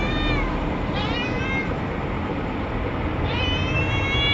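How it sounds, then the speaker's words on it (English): A kitten, apparently a stray, meows several times in short rising cries, loud and close over steady background noise. "There's a kitten."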